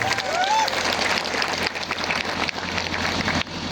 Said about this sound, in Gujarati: તમામ માટે એકવાર આપણે જોરદાર તાળીઓ પાડી લઈએ